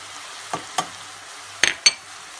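Minced meat browns quietly in a pan while a spoon stirs in spices, making a few sharp scraping and clinking strokes over the soft, close frying hiss.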